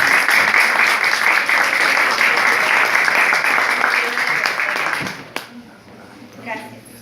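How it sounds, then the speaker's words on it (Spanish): An audience at a talk on public construction contracting claps in sustained, dense applause that cuts off sharply near the end, after which a voice speaks briefly. "Pido una vez un fuerte voto de aplauso para la doctora."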